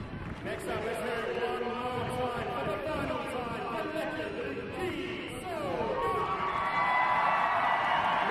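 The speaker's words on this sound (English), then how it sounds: "biggest cheer so far" Stadium crowd at Kings Meadow for a women's football match cheers and whoops steadily, the roar swelling louder toward the end as voices shout across the stands.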